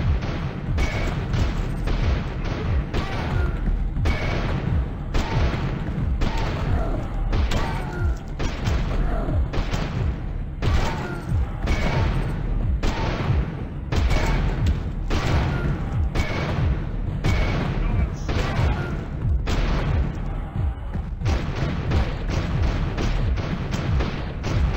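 Turret cannon fire in a video game, with only cannon weapons mounted on the turret: a dense, continuous barrage of rapid, loud booming shots and thuds, steady for the whole stretch with no pauses.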